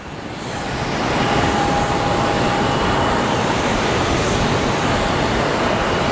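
An Envoy airliner departs Sky Harbor Airport bound for Monterey, its jet roar swelling over the first second into a loud, steady broadband rush that holds to the end.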